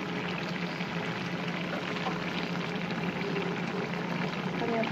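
Sponge gourd pieces dropped into a simmering curry in a pan, a steady close sizzle and bubbling hiss that fills the whole stretch at an even level.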